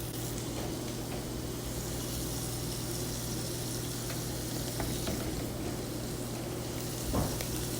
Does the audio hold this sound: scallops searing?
yes